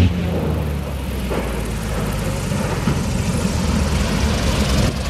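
A STOL light aircraft landing at the Skwentna touring event, its engine and propeller giving a steady, fairly loud drone throughout with no talk.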